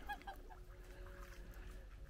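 Geese honking at a homestead pond, a few quick close calls at the start, then faint distant gabbling over a low background rumble.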